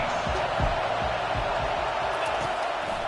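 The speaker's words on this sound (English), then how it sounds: "Decibels rising as the crowd gets behind this defense on third down." A stadium crowd roars in a college football video game on third down, a steady, loud wash of noise with repeated low thumps pulsing underneath.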